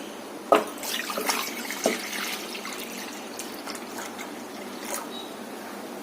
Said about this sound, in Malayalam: കുറച്ച് വെള്ളം ഒഴിച്ചൊന്ന് തിളപ്പിച്ച്